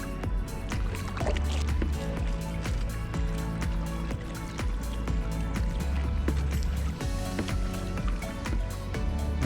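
Kayak paddles dip and pull through floodwater on a flooded farm field, rhythmic splashes and drips repeating steadily at close range, with faint background sounds throughout.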